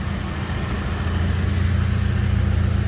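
A 2000 Mitsubishi Lancer GLXi 1.6 engine with a header exhaust idles with a steady low hum and a faint rhythmic pulse, continuous and unchanging with no talking.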